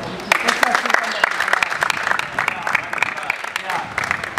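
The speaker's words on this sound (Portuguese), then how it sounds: "ele merece uma salva de palmas" Audience applause fills the room at a gathering of a kuduro music group, dense clapping running steadily throughout with voices mixed in underneath.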